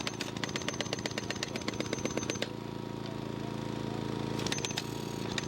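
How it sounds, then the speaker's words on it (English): Rapid pounding jackhammer bursts hammering in a steady fast rhythm, stopping briefly midway, then resuming near the end over a constant mechanical drone. "Okay, now, this jackhammer, that's it."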